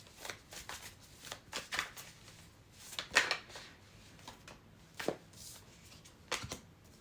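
Heavy tarot cards being shuffled close up, in quick riffling bursts of papery slaps and flicks separated by short pauses, with no talking.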